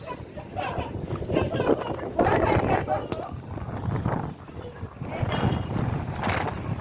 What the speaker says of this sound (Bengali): বাতাসের শব্দ মনে হয় বোঝা যাইতেছে